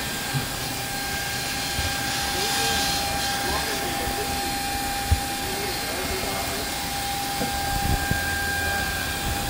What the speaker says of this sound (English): let's just move the table and back and forth